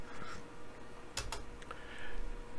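Light keystrokes tap out a short command on a computer keyboard, a handful of quiet clicks with a brief quick cluster in the middle against soft background hiss.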